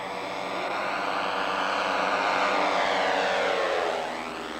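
A light fixed-wing aircraft climbs away after a roughly 60-foot takeoff roll, its engine and propeller drone steady and fairly near, swelling slightly in the middle before easing off.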